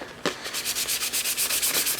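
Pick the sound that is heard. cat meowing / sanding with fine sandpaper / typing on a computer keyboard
sanding with fine sandpaper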